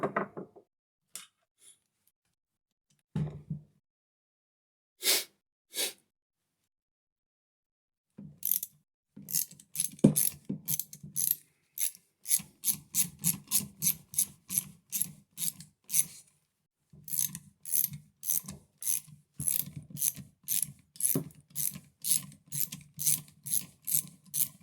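A ratchet clicks in fast rhythmic bursts while loosening the housing bolts on a starter motor being taken apart, with a few scattered knocks and pauses before steady cranking runs to the end.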